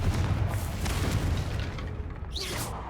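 A Confringo fire spell explodes in the Hogwarts Legacy video game with a loud, sustained booming roar that stays dense and even for the whole stretch, with no voices over it.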